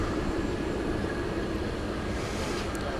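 An American Airlines Airbus A321neo bound for Spokane, Washington, approaches Dallas Fort Worth airport at night, its engines giving a steady, broadband roar that stays even and fairly distant throughout.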